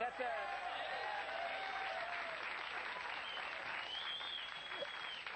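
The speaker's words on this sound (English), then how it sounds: "The huge crowd roar for Steppin' Out." A studio audience at a late-night talk show breaks into sustained applause and a roaring crowd cheer, dense and loud throughout, with voices calling out over it.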